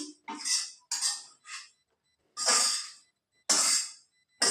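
Food is spooned into an insulated hotpot container at home: a series of short, close scraping and clinking bursts separated by brief silences.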